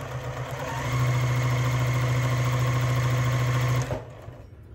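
A sewing machine runs steadily for about three seconds, stitching a wedge for a barn star sampler quilt block along seam tape, loud and close with a constant motor hum, then stops abruptly.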